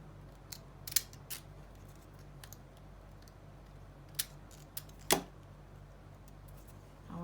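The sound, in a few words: scissors cutting cardstock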